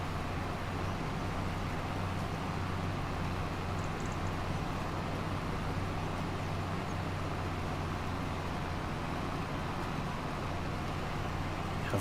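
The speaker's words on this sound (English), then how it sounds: "T7 is handling the drill okay." In Farming Simulator 25, a tractor pulls a seed drill across a field, producing a continuous, even engine drone with a low hum, fairly quiet and unbroken throughout.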